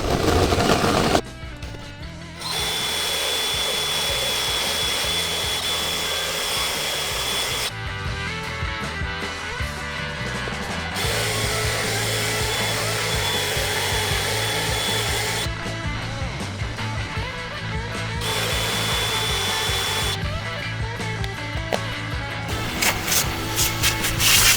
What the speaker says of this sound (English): I'll have to die grind out the hole at the top of the bottom